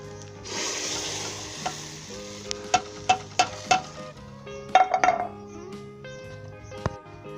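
Boiling hot tempering poured into Pakistani Punjabi anardana karhi gives a broad, close sizzle over the first seconds. It gives way to a series of sharp clinks and pings from pots and utensils.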